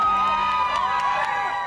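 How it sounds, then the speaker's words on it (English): A crowd cheers and whoops as Hillary Clinton arrives to vote in Chappaqua, New York, on Election Day 2016, a continuous loud roar of mixed voices with sharp shouts rising out of it. "Cheering crowds greeted Hillary Clinton as she arrived to vote in Chappaqua, New York."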